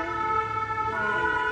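A fire engine siren wails close by, a steady, loud, tonal blare with rich harmonics holding through the short stretch, no speech over it.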